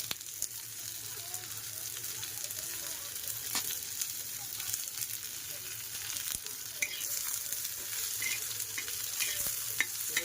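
Chilies and garlic fry in oil in a pan for an egg curry, giving a soft, steady sizzle with occasional light stirs and clinks close by, and no talking.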